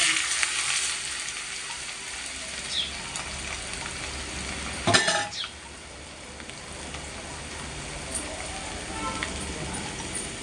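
Mustard seeds, fenugreek, cumin, dried red chillies and garlic sizzle and crackle in hot oil for a dal tempering. The sizzle is steady and close, with a brief clatter of stirring midway.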